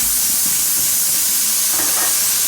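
Vegetables hit a hot pan that already holds half-cooked shrimp, letting out a loud, close burst of steamy sizzling hiss that stays strong and sustained through the whole moment, with no talking.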